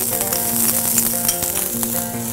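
Eggplant and capsicum sizzle steadily in butter in a frying pan for a spicy pasta, a loud, close, continuous crackle with faint stirring clicks throughout and no voices.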